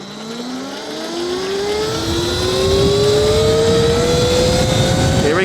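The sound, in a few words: Alibaba EM5 electric bike accelerating on road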